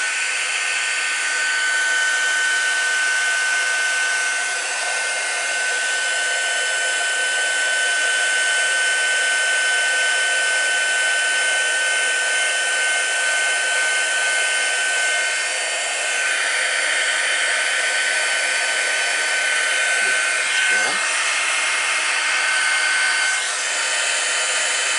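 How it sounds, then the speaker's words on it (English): A heat embossing tool blows hot air in a steady, loud, broad whoosh with a faint high whine, running continuously for the whole stretch with only slight changes in level and no talking. "I'm going to warm up my heat tool. I do apologise for the noise."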